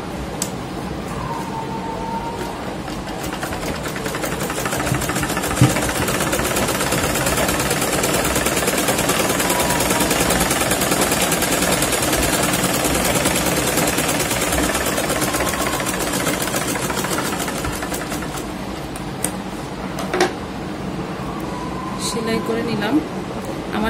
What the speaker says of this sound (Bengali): এভাবে সেলাই করে নেই।